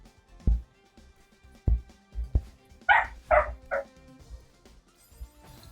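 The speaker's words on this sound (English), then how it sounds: "Please excuse my dog in the background." A dog barks indoors in the background with several sharp yips and woofs spread across a few seconds, plus some thumps and low handling noise and no talk over it.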